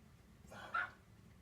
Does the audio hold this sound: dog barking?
yes